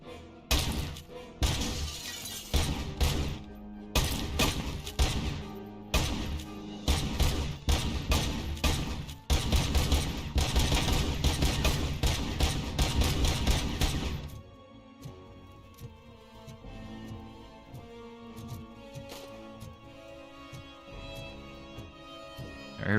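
Rapid AK rifle gunfire in RoboCop: Rogue City, loud bursts of sharp cracking shots with crashing impacts over the first fourteen seconds, then quieter game ambience and music.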